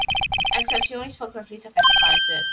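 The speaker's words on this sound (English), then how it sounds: "I found one just now, one of those newfangled ringtones." A cell phone ringtone in a video game chirps in rapid repeated electronic tones, then a sustained ringing tone plays on after a voice speaks over a brief pause.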